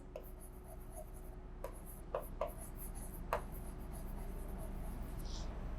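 Pen scratching across paper in short strokes and scribbles, with a few sharper taps, close and fairly quiet over a steady low hum, while working out percentages for other expenses on a financial statement analysis sheet.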